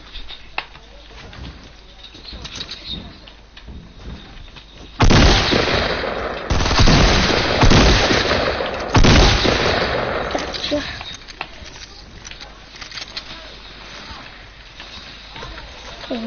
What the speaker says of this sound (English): now I hear shooting.